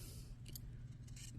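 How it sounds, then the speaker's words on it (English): Scissors snip into a fabric seam allowance along a set-in sleeve neckline facing, giving two quick, faint, close cuts over a low background hum. "So I will snip every quarter of an inch or so, or half an inch."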